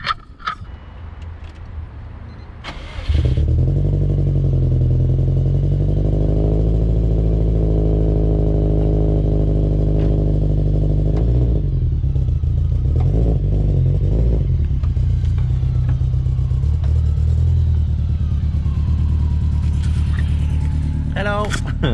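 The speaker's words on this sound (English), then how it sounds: "you see the engine is running so smoothly" The engine of a 2004 car idles steadily and fairly loud after a starting clatter, with a low continuous hum and slight roughness, as people speak nearby.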